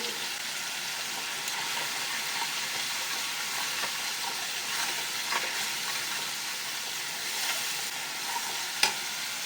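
Tangra fish fry in hot oil with turmeric and salt, giving a steady, close sizzle and hiss throughout with faint scraping stirs and a brief clink near the end.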